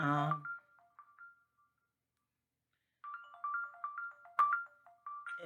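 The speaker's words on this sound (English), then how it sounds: "I had a phone call" A phone ringtone plays a short melodic pattern of bright tones, pauses for a couple of seconds, then repeats. It is faint and close, and a brief voice is heard at the start.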